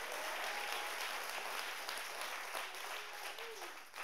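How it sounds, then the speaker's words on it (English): Church congregation at a worship service clapping hands together, a steady dense roar of applause throughout, moderately distant with faint voices and a tonal murmur beneath. "Clap your hands."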